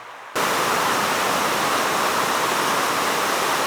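Water pouring over Slights Dam on a Yorkshire river, a loud unbroken rushing roar that bursts in suddenly and holds steady, close and without voices.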